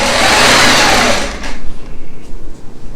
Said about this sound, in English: I'm just going to stitch all the way down